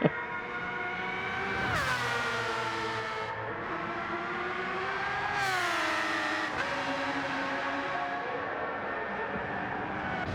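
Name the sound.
race cars driving on track in a sim racing video game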